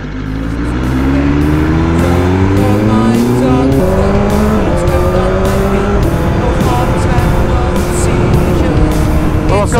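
A BMW M1000 R motorcycle fitted with a Brentune exhaust revs hard and close, its loud engine note rising and falling through several steps and held high and steady throughout.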